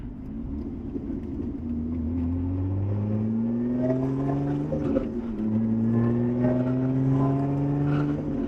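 A Lotus Emira V6 speeding up to merge onto a road: the engine climbs through two long rising pulls with a brief gear-change dip between them, heard from inside the car at moderate loudness.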